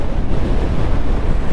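Strong mountain wind on a road at Vagamon, Kerala, roaring loudly and continuously into the microphone as dense low buffeting with no pauses.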